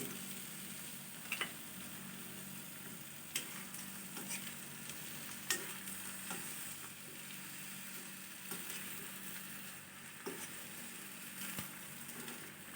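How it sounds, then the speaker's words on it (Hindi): Vegetables sizzle steadily in hot oil in a pan for baghare baingan, with occasional scraping and clinking strokes of a spoon stirring them, loud and close with no talking. "सारी सब्जियों को मैं इसमें शामिल कर दूँगी।"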